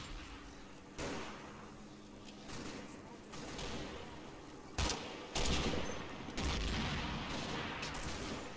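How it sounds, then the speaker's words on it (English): Sporadic gunfire from SS troops in a Combat Mission battle at Grainville Chateau, Operation Epsom: scattered shots and short bursts crack over a dim, rumbling battlefield, some near and sharp, others distant. "The fire from the SS quickly becomes sporadic"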